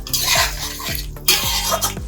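Egg curry being stirred in a pan, with a utensil scraping and clinking against the metal in several repeated strokes, close and fairly loud, with no voices.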